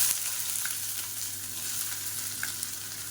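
Finely chopped large onion fries in hot oil in a pan, giving a steady close sizzle with faint stirring scrapes and no talking.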